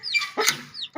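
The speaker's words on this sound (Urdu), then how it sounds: "یہ اب تھوڑا سا میں مرغیوں کو کھلاؤں گا، یہ چوزے وغیرہ بھی کھائیں گے۔" Hens and chicks clucking and cheeping close by at feeding time, a quick run of overlapping calls with a short squawk toward the end.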